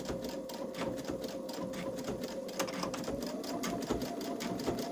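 A Babylock Solaris 3 sewing machine stitches steadily with a dual feed foot attached, its rapid needle clatter and motor hum running continuously and close at an even pace throughout.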